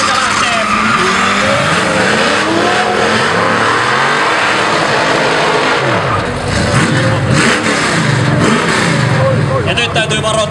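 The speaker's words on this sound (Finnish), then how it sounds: "Autot ovat viivassa kohdellaan, ei muuta kuin valot alas." Street race cars launch from the start line at a street race in Rauma, with loud engines revving, tires squealing and accelerating hard, while an announcer talks over the roar.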